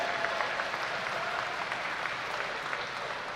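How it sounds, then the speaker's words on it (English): Applause at the 2023 YMCA Long Course National Championships swimming finals in Greensboro: steady crowd clapping from a large indoor audience, sustained evenly for a few seconds without speech. "Give them another round of applause."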